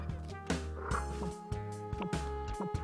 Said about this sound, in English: These frogs up here are gonna get me killed.